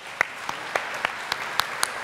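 At a community breakfast event with city mayors, an audience gives light, scattered applause, with individual claps standing out over a soft background.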